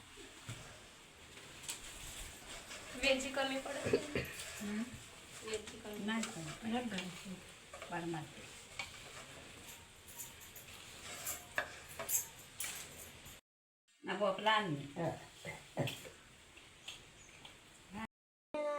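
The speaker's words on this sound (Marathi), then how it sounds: "सर्व मिश्रण आजी मिक्स करून घेत आहे" A grandmother works a sticky laddu mixture by hand for traditional kutni laddu, making soft squelching, rubbing and stirring noises close by, with voices and background sounds mixed in and a couple of brief silent gaps.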